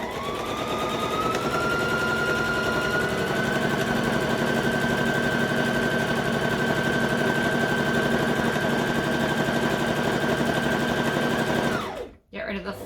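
A sewing machine stitches fabric for a dice bag in a long, steady, close high-pitched whir that runs unbroken for about twelve seconds, then stops abruptly.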